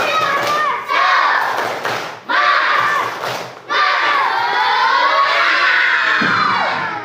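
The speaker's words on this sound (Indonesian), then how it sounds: "Satu lagi, tepuk semangat." Fourth-grade pupils in a classroom repeat a spirit clapping chant, a chorus of young voices shouting in unison with claps and thumps punctuating the phrases, loud and near.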